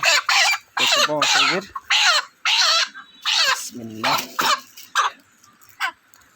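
Broiler chickens clucking up close in a rapid series of short, loud bursts, with a few deeper squawks mixed in.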